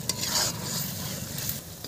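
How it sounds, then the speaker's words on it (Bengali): A spoon stirs curd masala in a hot pan for a shol fish korma, scraping steadily with a soft sizzle of frying underneath, close and continuous for the whole stretch. "যাতে না লাগে ঘন ঘন নাড়তে হয়।"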